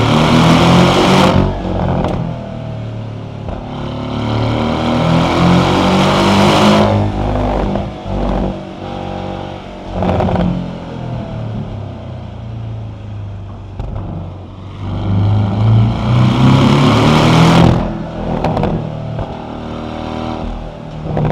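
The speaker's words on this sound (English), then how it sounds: "It's crazy just hearing the intake noise like right there." A car's engine intake roars and revs through a night drive on a canyon road, swelling loudly on acceleration and easing off between pulls, close and dominant throughout.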